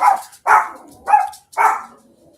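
A dog barks four times close by in a slow, even rhythm, each bark loud and sharp with a short pause between, and no talking over it.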